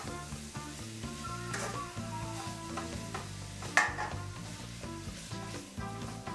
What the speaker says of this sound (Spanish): Pon la carne picada en la olla y cocina hasta que se dore.